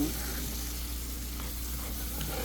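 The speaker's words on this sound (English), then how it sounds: "We're gonna take this add this into our skillet and mix." A flour roux is stirred in a skillet for gravy, giving a soft, steady sizzle and frying hiss with faint stirring scrapes throughout.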